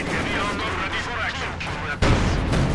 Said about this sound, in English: Stuke firing into the side of the IS-2, there to penetrate